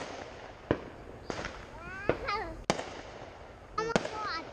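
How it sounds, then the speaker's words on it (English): Fireworks going off outdoors: several sharp, separate bangs and pops spaced across a few seconds, with a child and an adult talking in between. "You like the fireworks?"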